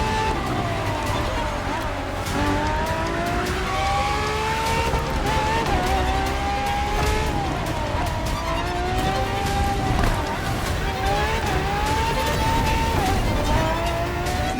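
Ferrari FXX K supercar racing in The Crew Motorfest, a loud, sustained high-revving engine with shifting pitch as it accelerates and drops through gears, with faint tire squeal, under someone talking.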